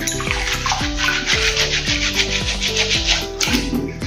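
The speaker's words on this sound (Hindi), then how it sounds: "हाथ से रगड़ते जाइए और टोकरी से छिलका निकलते जाइए" Hands rub soaked urad dal against a basket to strip the husks, giving a rhythmic wet scraping and swishing that repeats about twice a second, close and steady with no talking.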